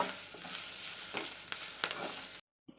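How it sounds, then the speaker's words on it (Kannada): Onion, garlic and curry leaves frying in a hot pan, a continuous close sizzle with a few stirring scrapes, cutting off abruptly near the end. "ಇದ್ರ ಜೊತೆನೆ ನಾನು ಸ್ವಲ್ಪ ಕರಿಬೇವಿನ ಹಾಕ್ಕೊಂಡು ಕೂಡ ಬಿಸಿ ಮಾಡ್ಕೊಳ್ತೀನಿ"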